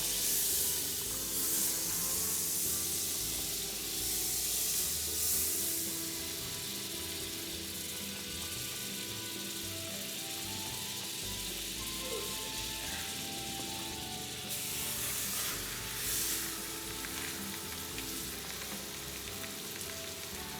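Butter sizzles and hisses steadily in a hot pan with pork for street tacos, giving a continuous bright frying crackle with a slight swell partway through and no talk.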